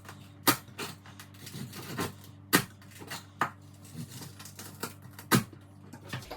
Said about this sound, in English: Let the knife glide through the meat, and when you reach that crispy skin, just apply a bit of pressure.